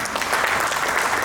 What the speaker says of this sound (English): Sir, I must applaud, and we all should applaud him